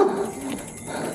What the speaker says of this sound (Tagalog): Inaambakan kami ng mga aso.